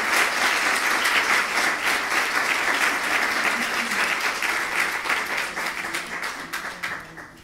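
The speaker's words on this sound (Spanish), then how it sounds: "y ahora sí, aplausos." An audience at a poetry event in the Alhaurín public library gives sustained, dense applause that holds steady for several seconds and then thins out toward the end, with a faint murmur of voices underneath.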